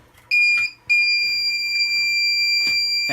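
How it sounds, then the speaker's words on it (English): A water heater leak detector alarm: a shrill, continuous electronic tone sounds up close, briefly cutting out once before resuming steadily. "it also gives you an audible alarm"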